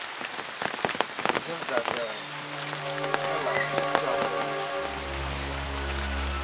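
Rain pours steadily outdoors near a palace, a dense hiss of drops striking surfaces throughout. Someone speaks briefly over it, and then a low sustained drone and tonal music rise beneath the rain.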